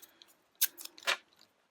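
Scissors cutting through a printed card of nested dotted squares for a handmade baby card, a few close, crisp snips spaced unevenly over a quiet background.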